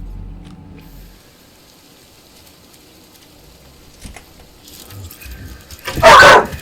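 A pet dog gives a short, loud bark near the end, close by, after several seconds of quiet room sound with faint rustling and mechanical clicks.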